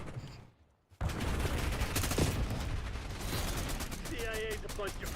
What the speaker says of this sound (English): there we go with the nades again